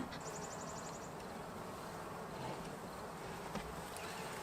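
Honeybees buzzing around a beehive fed with syrup, a faint continuous drone of many insects with a few individual bees passing close.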